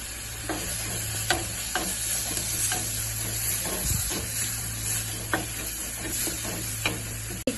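A spoon stirs masala in a hot pan with a steady low sizzle of frying, broken by soft, irregular scraping strokes and a sharp clink at the end. No one speaks.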